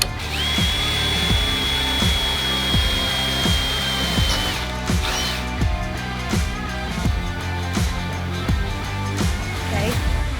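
A power drill bores a hole in an electric bike part during a rebuild, whirring in short repeated bursts with a high steady whine at first, close and fairly loud.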